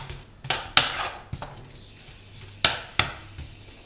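Pieces of ingredient for a korma curry lowered into a pan and broken up with a utensil, several sharp metallic clanks and scrapes at irregular intervals, close and fairly loud, with no talk.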